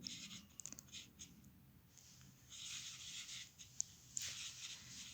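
A maths definition being written out by hand: quiet scratchy strokes in short bursts, with a couple of faint clicks and a soft background hiss.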